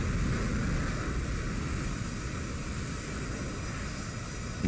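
In the War Thunder game, an A-10A's engines make a steady, moderately loud jet drone during takeoff, continuous and even throughout with no talk.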